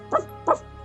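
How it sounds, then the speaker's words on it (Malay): A dog gives two short, soft yelping barks about a third of a second apart, muffled and somewhat distant over a low steady hum. "Tiba-tiba pula ada bunyi anjing menyalak."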